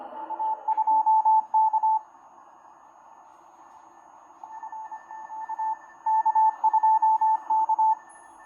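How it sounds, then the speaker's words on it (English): CW Morse code on the 160 meter amateur radio band, picked up by a 1921 Grebe CR-8 regenerative receiver: a steady pure tone keyed in rapid dots and dashes, in bursts separated by pauses, over a faint hiss. "CW on the 160 meter amateur radio band"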